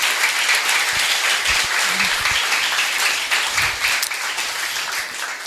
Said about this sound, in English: One last time, a round of applause for Dr.